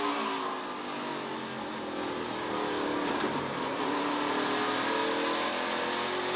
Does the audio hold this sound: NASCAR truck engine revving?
yes